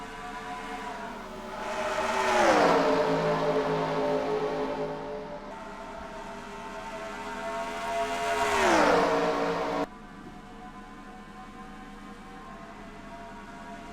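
Race cars in a Pocono Raceway sim race, the Pichu London Cup Series, roar past at the start, two loud engine sweeps rising and falling a few seconds apart before dropping to a steadier distant drone.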